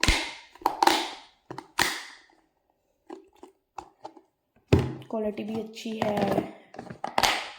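Someone taps and knocks a three-piece tiffin box set, producing sharp, close clicks and hollow metallic thunks in irregular bursts, with a voice speaking over part of it.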